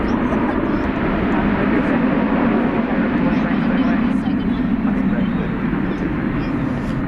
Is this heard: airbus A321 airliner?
yes